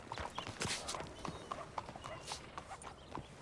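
Horse hooves clip-clop at a steady walking rhythm in Red Dead Redemption 2 around the Blackwater boomtown, fairly close, with a voice talking over the hoofbeats.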